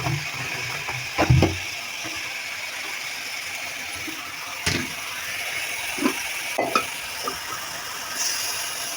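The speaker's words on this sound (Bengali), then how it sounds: "এটাতে কোনো পানি দিব না, শাকের পানি থেকে ভাজাটা হয়ে যাবে।" Leafy greens fry in a pan in their own moisture without added water, making a soft, steady sizzle with occasional sharp clanks and scrapes from a stirring utensil; no voices.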